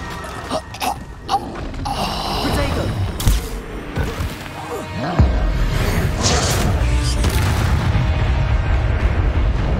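Incendio fire spells cast in Hogwarts Legacy, several bursts and booming blasts amid battle effects and music, with spoken lines over them.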